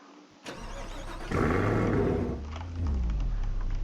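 A car engine starts up and revs, rising to a loud roar then settling into a steady rumbling hum, close and with no talking.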